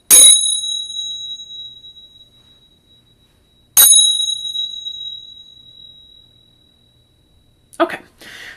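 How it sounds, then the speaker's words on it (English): Small chimes struck twice at a sound-healing session, each a bright shimmering ring that decays slowly over several seconds, followed by a brief softer rustle at the end. "I have these little chimes here"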